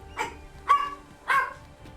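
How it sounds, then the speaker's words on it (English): A dog in the video game Dragon's Dogma 2 gives three short, sharp barks spaced about half a second apart, fairly close and clear over a quiet background. "what does it mean when she's just barking?"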